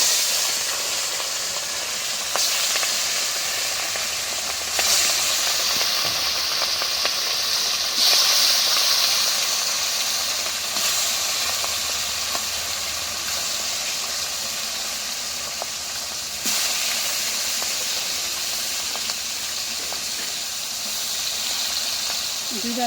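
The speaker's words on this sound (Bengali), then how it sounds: "তেলটা গরম হয়ে গেছে, মাছ দিয়ে দিলাম" Fish pieces frying in hot oil in a home kitchen give a steady broadband sizzle and hiss that runs the whole time, with occasional louder spits and bursts, and people talking over it at times.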